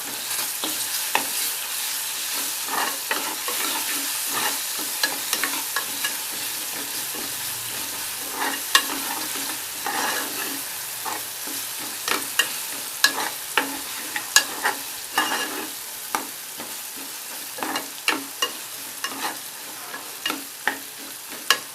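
Ginger garlic paste sizzles in a pan for a menthi tomato curry, with steady frying hiss and repeated sharp scrapes and taps of a spoon stirring, no talking.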